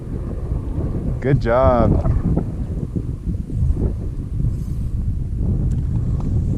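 Wind gusting across a high alpine lake in the Colorado mountains, a rough, buffeting rumble against the microphone throughout, with a brief voice heard partway through.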